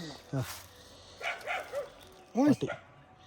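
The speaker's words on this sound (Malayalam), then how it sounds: "പട്ടി ഇരിപ്പുണ്ട് കേട്ടോ." A few short, sharp dog barks ring out in separate bursts, moderately close, over a quiet outdoor background at a car campsite.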